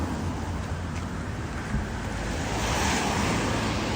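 Sea waves wash steadily near Kronstadt, St. Petersburg, a continuous broad surf roar with gusting wind buffeting the microphone and no talk.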